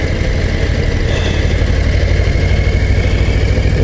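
A Harley-Davidson Low Rider ST motorcycle rumbling while riding, a loud, dense, continuous engine drone with wind noise, close and steady throughout with no speech.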